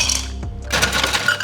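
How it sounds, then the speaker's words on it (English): Ice cubes clinking and tumbling into a rocks glass while an Amaretto Sour is being made, a few sharp close clatters in quick succession with no talk. "grab your rocks glass and fill it up with some ice"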